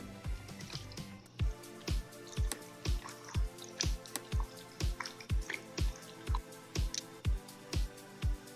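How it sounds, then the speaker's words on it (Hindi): Chicken with deep cuts being mixed by hand with marinade, giving a steady rhythm of wet squishing slaps, about two per second, close and clear with no talking. "अब इसको अच्छी तरह मिक्स करना है ताकि उसके अंदर हमने डीप कट्स लगाए हैं उसके अंदर तक ये चला जाए"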